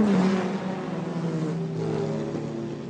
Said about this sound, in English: and blast back into the night.